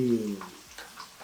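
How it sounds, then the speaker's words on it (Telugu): Masala frying in a pan for dum aloo gives a short, close sizzle with stirring scrapes, brief and fairly quiet, with a hint of voice at the very start. "ఇప్పుడు దీన్ని దాంట్లో వేసి బాగా ఫ్రై చేయాలన్నమాట."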